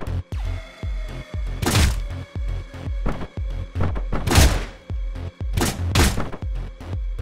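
Repeated nail gun shots in Hotline Miami 2, a rapid string of punchy thunks at a steady rhythm with a few louder, sharper bursts mixed in, loud and close.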